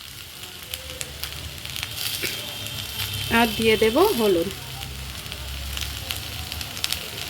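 Spices frying in a pan of oil give a steady low sizzle throughout, with a voice speaking briefly over it in the middle.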